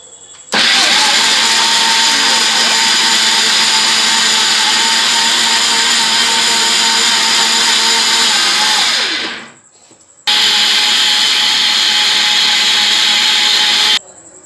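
An electric grinder runs hard on a mixture of ingredients, a loud steady whir for about nine seconds that winds down, then after a short pause starts again for another four seconds, close and alone.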